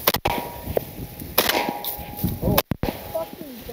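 Shotgun blasts while hunting in a flooded corn field, with several sharp, loud reports spread across a few seconds, each cracking out over the open outdoor air.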